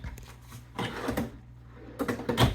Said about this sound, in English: And you have more drawers here.